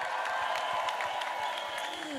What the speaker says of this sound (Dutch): Groot applaus voor Tije.